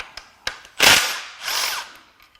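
Power tool unbolting cam gears on a junk BMW N63 twin-turbo V8 during teardown: a couple of faint clicks, then two short whirring bursts, the first louder, close up.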